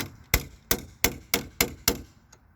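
Six sharp metallic hammer blows on a truck battery land at a steady rhythm, each ringing briefly before the next strike, close and fairly loud.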